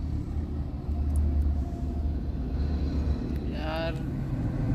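Low, steady engine rumble and vibration heard inside a Tata Tiago running on CNG with its 1200 cc engine and the AC switched off, a continuous droning hum with a faint higher whine briefly rising near the end.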